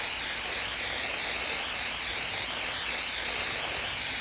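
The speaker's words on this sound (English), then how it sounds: "I'm spraying a little heavier on this" Spray paint is applied heavily in a water-resist art technique, making a loud, continuous, close hiss that holds steady throughout.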